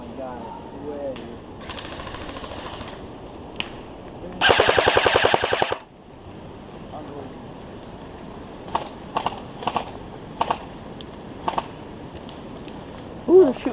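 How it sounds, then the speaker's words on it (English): Rapid bursts of airsoft gunfire during an outdoor airsoft game, one dense volley near the middle and scattered sharp cracks afterward, with players talking excitedly throughout. "Ooh, they're shooting at us."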